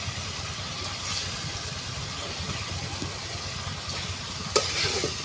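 Spice paste and eggs stirred in a frying pan, a steady soft sizzle with scraping stir strokes running continuously at close range, one brief sharper clink near the end.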